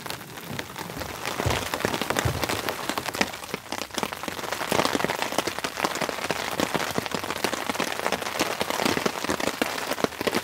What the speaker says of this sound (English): Man, there's a real nice rain coming down.